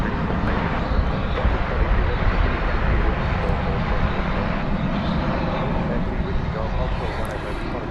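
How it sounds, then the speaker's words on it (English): A Boeing 737-800 airliner rolls at DFW Airport on a flight to Chicago O'Hare, a broad steady jet engine roar filling the scene at close range under a constant wash of noise. "as you see flight 2346 on its way to Chicago O'Hare there,"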